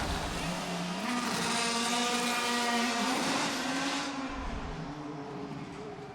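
A Formula One car roars loudly nearby during a pit stop, its engine pitch climbing and wavering before easing off, with a harsh, buzzing whine throughout.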